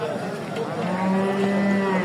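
Cattle at a Qurbani livestock market lowing loudly and close by, one long, deep, sustained moo swelling over a busy background and carrying through to the end.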